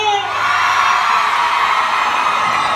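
A crowd of women at a live tropical band concert shrieks and cheers together in one loud, sustained high-pitched roar.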